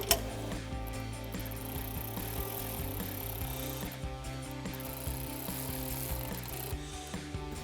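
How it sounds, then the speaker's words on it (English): An 8mm socket on a ratchet tightens the fuel injector kit on a 1996-2004 Mustang GT, a rapid continuous clicking of the pawl close up with a rhythmic mechanical whir and no talking. "grab your 8mm socket and tighten these down."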